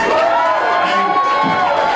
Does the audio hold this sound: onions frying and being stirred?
no